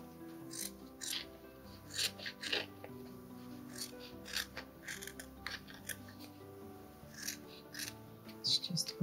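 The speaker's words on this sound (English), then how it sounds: "I can cut out the felt" Scissors snip out felt for a miniature Harry Potter Ravenclaw common room study nook, making a series of short, close, crisp cuts in an irregular rhythm, with faint handling rustles between them.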